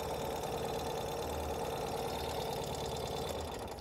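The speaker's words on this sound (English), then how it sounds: "I'm gonna shut the engine down just so it's a little quieter" A custom-built Ural motorcycle engine idles steadily close by, a constant even rumble with a slight knocking texture and no talking over it.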